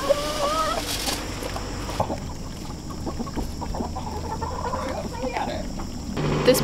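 Chickens clucking nearby in short bursts, with some background noise and a brief louder cluck near the start.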